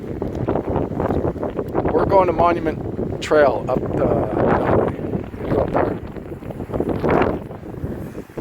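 Gusty winter wind at 10 below with 20-mile-an-hour gusts on a snowy trail at Chena Hot Springs, buffeting the microphone in loud irregular rumbles while people talk throughout.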